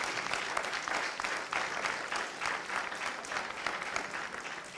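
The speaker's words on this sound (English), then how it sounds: "I think we need to give them a big round of applause." Sustained audience applause filling a hall, dense and steady throughout at moderate level, with no voices over it.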